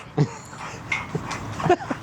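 A dog whimpers in short, soft, high whines, several brief cries spread across a couple of seconds, close by and quiet.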